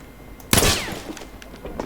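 A sniper rifle shot rings out in the video game Battlefield 1, one loud sharp crack with a trailing echo, followed by quieter battlefield noise.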